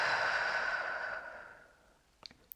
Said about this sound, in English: Exhaling and releasing.